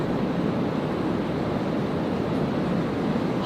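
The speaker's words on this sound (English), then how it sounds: "I don't know if you can see it, but I'm sure you can hear it. It is pouring." Torrential rain in a storm, a constant, even hiss and roar that fills the space at close range, with no voices.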